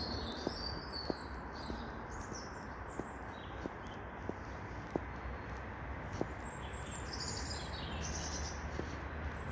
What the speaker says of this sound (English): Nice, the birds singing now.